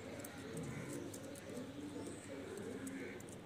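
Kaal noky breed pigeons cooing softly on a rooftop, low repeated coos close by, faint and steady under quiet background noise.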